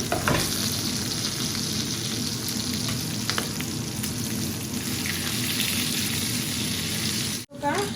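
Fish sizzling in a pan with spices, a steady dense frying hiss with faint stirring scrapes, close and continuous, briefly cut off near the end.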